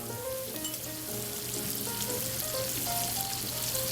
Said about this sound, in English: So we saute this nicely through